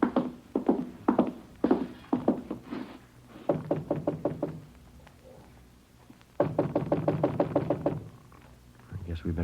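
Firm knocking on an apartment door in an old radio police drama, several bursts of rapid raps with pauses between them, loud and close, with brief low voices in between.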